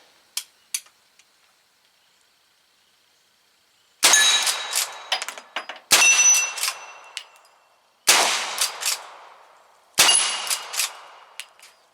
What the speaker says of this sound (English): We'll shoot a couple of targets in close.